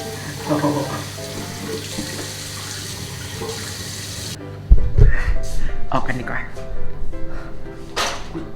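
A tap runs steadily into a sink while someone washes their face, then stops and leaves splashes and wet slaps of hands on skin; someone talks over parts of it.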